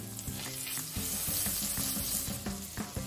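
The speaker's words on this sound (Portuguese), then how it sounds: "Agora aqui na mesma frigideira adiciono mais um pouco de manteiga" Butter sizzles in a frying pan while a Francesinha sandwich is made, a close, steady frying hiss broken by scraping and clinking of utensils, with no voices.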